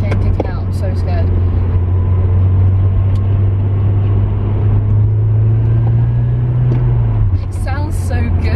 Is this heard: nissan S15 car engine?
yes